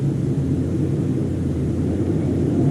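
A 2013 Mustang GT 5.0 with a Mantic twin disc clutch pulling away, a loud, close, steady low engine rumble holding evenly throughout.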